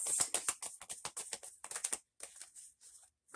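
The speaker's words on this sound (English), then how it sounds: "This is my last shuffle." Tarot cards shuffled by hand in a rapid burst of crisp flutters and riffled snaps, close and alone, with a short pause before a few final softer shuffles.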